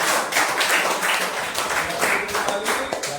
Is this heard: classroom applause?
yes